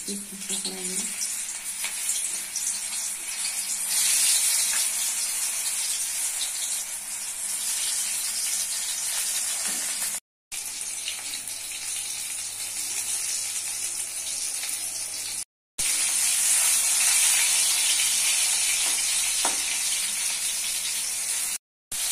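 Long bean pakoras deep-frying in hot oil, a dense steady sizzle and bubbling hiss that fills the whole stretch, briefly cut to silence twice, with a faint low hum beneath and no speech.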